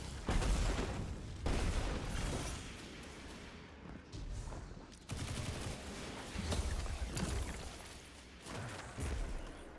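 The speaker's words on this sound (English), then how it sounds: "doesn't do much more than a small like area of effect explosion" Weapon explosions in the Destiny 2 video game, a rapid series of muffled blasts and gunfire-like bursts with thudding booms, fairly faint and repeated in irregular clusters.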